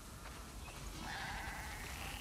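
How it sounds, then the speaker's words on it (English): A drawn-out sheep bleat from a farm flock in The Last of Us Part II rises midway and carries on to the end, over constant ambient game noise. "We definitely have way too many sheep."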